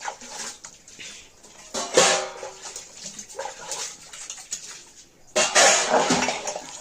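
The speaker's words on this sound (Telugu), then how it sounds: "గిన్నెలు అవన్నీ ఉంటే కడిగేస్తున్నాను" Dishes being washed nearby: running water, clattering pots and clinking utensils in irregular bursts, louder toward the end.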